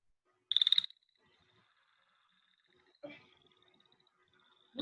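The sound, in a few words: American toad call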